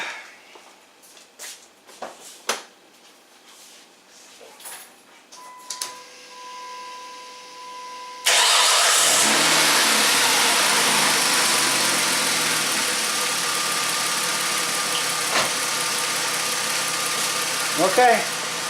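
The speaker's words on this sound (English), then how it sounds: "I'm going to start it up, see what happens." A 2005 Chrysler Sebring with a misfire and bad ignition coil, raised on a jack, cranks and catches at about eight seconds, then settles into a loud, steady idle with faint clicks and knocks. Quiet rustling comes before the start.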